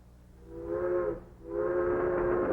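A train on the move sounds two loud, sustained whistle blasts over a low rumble. A short break separates the first blast from the longer second one.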